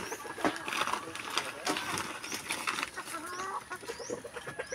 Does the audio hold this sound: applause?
no